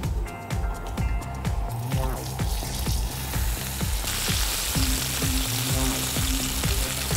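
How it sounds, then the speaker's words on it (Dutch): Lamb chops sear in a small amount of hot oil in a pan, a steady close sizzle and crackle with faint stirring and squishing, continuous and without speech. "In de pan een klein beetje olie, niet te veel, puur om hem even mooi stevig aan te bakken."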